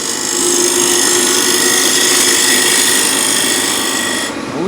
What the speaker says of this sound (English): I'm raising the handle up to pivot the edge into the wood, and that makes a really nice clean tenon here.